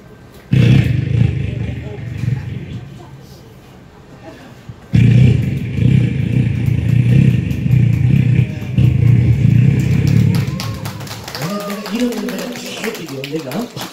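A voice imitates a big motorcycle engine starting, with a loud low throaty rumble and revving that drops out briefly and then resumes before trailing off.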